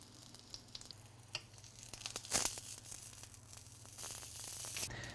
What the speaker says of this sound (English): we're pan frying it to get that colour, to get that caramelization